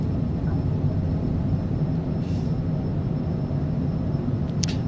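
Steady loud low drone of a light aircraft engine during takeoff climb, a continuous rumble with a faint high whine, heard from inside.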